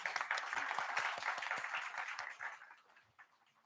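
Conference audience in a hall applauding guests seated on the dais, a crowd of clapping hands at moderate distance that gradually thins and fades out near the end.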